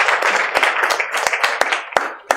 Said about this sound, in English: I think you deserve an applause for this.